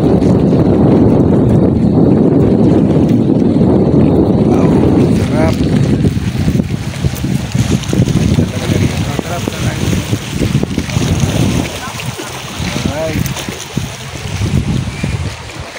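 Boat ride at Caramoan Island, Camarines Sur: a loud, continuous roar of wind buffeting the microphone mixed with engine and water noise, with a voice speaking intermittently in the middle.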